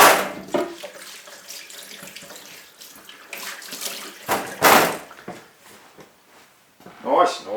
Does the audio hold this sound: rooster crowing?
no